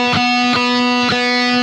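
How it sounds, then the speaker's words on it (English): A sustained electric guitar note rings steadily on an Evertune bridge while the machine head is turned, the pitch holding level, with a few soft knocks from the tuner as it turns and no voices. "you have to kind of tune it all the way up to where it basically just doesn't go up in tune anymore"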